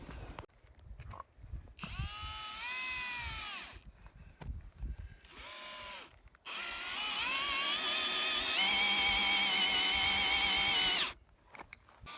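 A power drill drilling wood whines in several bursts, the first about two seconds, then a short one and a long steady run, with clicks in between.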